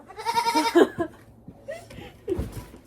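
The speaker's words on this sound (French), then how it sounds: "je me suis fait enfermer avec la chèvre" A goat bleats in an enclosure, a wavering nasal cry up front, followed by quieter rustling and a shorter second call near the end, with faint voices around it.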